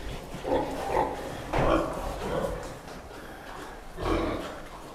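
Two gilts kept for breeding on a farm give a series of low, breathy grunts in irregular bursts, fairly close and moderately loud, with snuffling between them.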